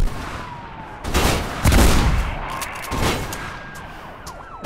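Gunfire in the Mirror's Edge video game: a rapid, loud burst of shots and then a few scattered cracks, with a siren-like tone wailing underneath.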